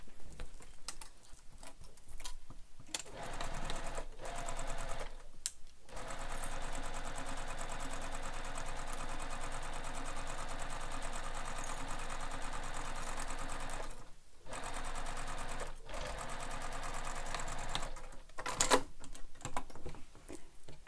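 Sewing machine stitching a handbag seam with basting stitches, a steady fast mechanical whirring run that pauses briefly a few times and restarts, close and alone without talk.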